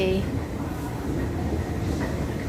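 Train rumble fills a Paris station: a steady low rolling roar with faint metallic squeals and background noise, and a brief hint of voices nearby.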